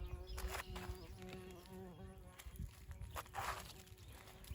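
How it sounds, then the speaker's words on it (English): Bumblebees buzz around bell pepper plants on a farm, a faint, wavering hum rising and falling as they move close and away, with no speech. "The bumblebees are pollinating."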